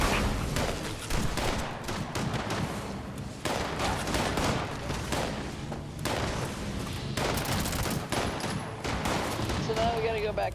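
Gunfire in the Fallout 76 video game, dense continuous bursts of rapid shots and blasts filling the clip, loud and sustained with brief gaps.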